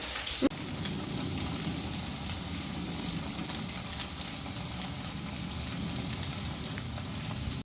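Pork tocino fries in a pan with a steady, soft sizzle and crackle that holds at an even level throughout, with a single brief knock near the start.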